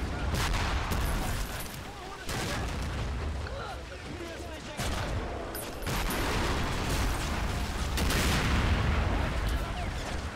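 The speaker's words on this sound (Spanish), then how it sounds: "Ese disparo que he hecho y el mortero" Gunfire and mortar blasts in a war video game set at the gates of Warsaw, a dense, continuous barrage of loud shots and booms over about ten seconds, with someone talking through it.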